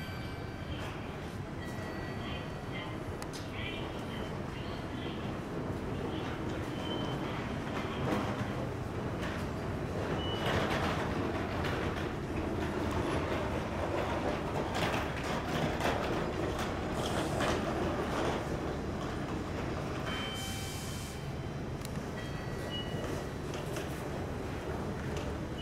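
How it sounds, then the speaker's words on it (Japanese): Tobu Kameido Line train rumbling into platform 1, a continuous low roar of wheels and carriages with faint mechanical clanks, heard from a platform at moderate distance. "1番線に電車が参ります。"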